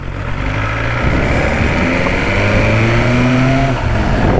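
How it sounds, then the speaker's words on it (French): A 2022 BMW S1000R motorcycle on its first laps gives a loud, close, sustained engine roar whose pitch rises and shifts as the rider accelerates through the gears, with wind noise and no talk. "Allez c'est parti, donc là on y va pour les premiers tours."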